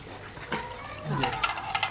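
Tap water runs and splashes over tomatoes being washed by hand, a short burst of liquid sloshing and trickling, close by, with faint background noise.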